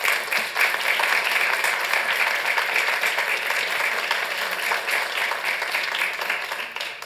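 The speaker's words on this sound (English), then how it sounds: "please give a big round of applause to Judge Lynn Riddle" A council-meeting audience applauds Judge Lynn Riddle with dense, sustained clapping that stays steady for several seconds before tapering slightly.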